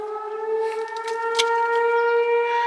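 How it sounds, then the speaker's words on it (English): Civil defense siren sounding during its weekly test, a sustained steady wail with strong harmonic tones, heard continuously from a distance in an outdoor setting without speech. "they're just doing the weekly test of the sirens"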